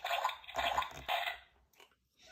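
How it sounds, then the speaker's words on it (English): A cartoon dog jumps into a great big muddy puddle, making a few close, wet splashing squelches in quick bursts before trailing off. "Daddy Dog jumps in a great big puddle. Squelch."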